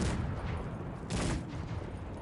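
Video game cannon grapeshot fire: bursts of loud blasts, one early and a stronger one about a second in, over a continuous rumbling din of battle noise.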